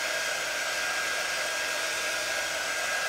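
A heat tool blasts steadily to dry ink on a decorative pillow cover craft project, a loud continuous broadband hiss and whir with no break and no voices.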